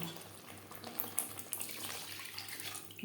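Water poured into a pan of rui fish curry with potatoes and spices, a soft steady splashing stream running alone for a few seconds.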